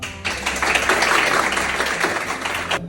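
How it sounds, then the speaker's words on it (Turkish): Applause from an audience for a young athlete set to compete for the national team at the European Championship in Serbia, a dense, steady wash of clapping lasting a few seconds before tapering off. "Sırbistan'da yapılacak olan Avrupa Şampiyonası'ndan bir takımımız adına yarışacak ve alkışlayalım."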